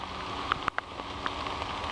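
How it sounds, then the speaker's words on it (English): Steady rain falls outdoors at a lakeside park during a litter clean-up, a continuous soft hiss with a few close drop taps standing out, no voices. "let's just enjoy the rain"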